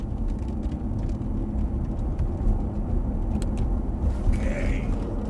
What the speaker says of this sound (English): when we apply the acceleration, it's nice and smoothly done all the time